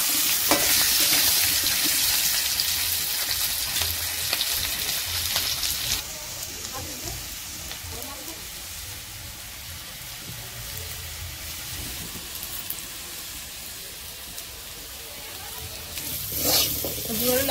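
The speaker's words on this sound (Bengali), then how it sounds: "তেল গরম হয়ে গেছে, আবার আলু সেদ্ধগুলো দিয়ে দিচ্ছি।" Boiled potatoes sizzle and fry in hot oil in a kadai, a steady close hiss with occasional stirring and a brief louder flare near the end; some faint talk is present.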